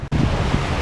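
Gusting wind buffets a microphone outdoors, a loud steady low rumble that drops out for an instant near the start and then roars on without a break.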